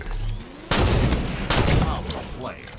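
Heavy gunfire from a scattershot weapon in the video game Halo 5: two loud, booming blasts with crackling tails, close and punchy, over a steady game backdrop.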